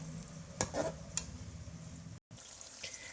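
Aloo matar chicken frying in a pan, a quiet low sizzle under a couple of soft scrapes from a spoon, with a brief drop to silence near the end, faint and without speech.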